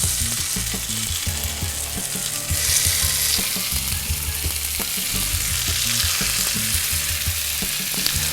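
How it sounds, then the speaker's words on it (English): Rabbit kebab skewers sizzle and fry in a hot pan, a steady loud crackle with occasional sharper pops, close up and without talking. "when that rabbit hits it, you want to hear that sizzle"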